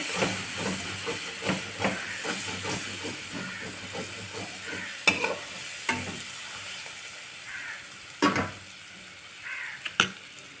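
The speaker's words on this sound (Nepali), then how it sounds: "एकछिन चलाउँदैछु।" Broccoli and potato pieces being stirred in a hot frying pan give a steady close sizzling hiss, broken by repeated scraping strokes and a few sharper clinks of the utensil, with no talking.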